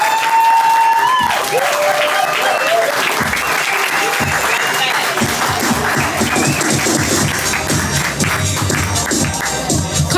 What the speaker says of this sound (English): Clap it up for that poet doing a poem.